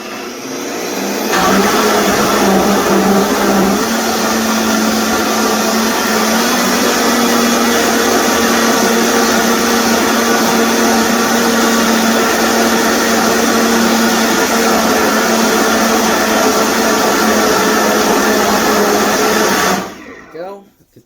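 A blender whirs through a mango smoothie made from Costco ingredients, a loud, steady motor roar lasting about twenty seconds before it cuts off abruptly.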